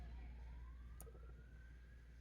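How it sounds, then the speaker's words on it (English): An emergency siren sounds outside, faint and distant, with a slow rising wail over a low rumble of background noise and a brief sharp click partway through. "Yeah, there are sirens outside."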